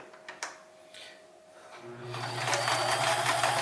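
Sears Kenmore 158 series sewing machine stitching, with a couple of light mechanical clicks first, then the motor whirring up into steady, close stitching that grows louder and continues to the end.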